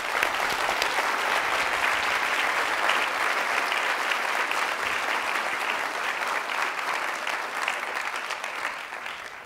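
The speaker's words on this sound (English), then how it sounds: "they both deserve a little applause" An audience at a lecture on poverty by Paul Farmer breaks into sustained applause, a loud, dense and even roar of many hands that continues for several seconds before easing slightly toward the end.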